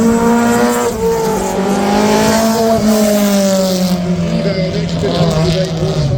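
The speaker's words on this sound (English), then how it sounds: "The Marlborough car driven by Tony Walker now." Marlboro-liveried race car driven by Tony Walker at Silverstone, a loud close engine roar with shifting pitch as it passes, a brief tyre squeal, and a commentator's voice mixed in.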